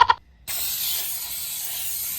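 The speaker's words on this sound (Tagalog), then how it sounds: "I'm gonna spray some Pam" Pam cooking oil spray goes into a small 9 by 13 baking pan for butter mochi cake: a brief click, then a steady, close hiss that runs for about two seconds.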